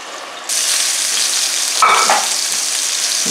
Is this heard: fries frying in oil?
yes